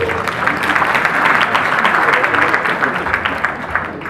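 Audience applause for a singer at a tribute event in Abidjan, a steady, fairly loud wash of clapping from a crowd lasting several seconds.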